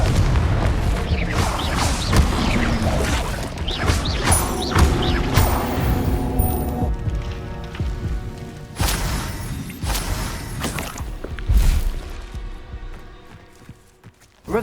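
Confringo explosive spell in Hogwarts Legacy: repeated booming blasts with crackling, mechanical clatter and debris over dense game ambience, loud and close, with scattered footsteps and a sudden hit at the end.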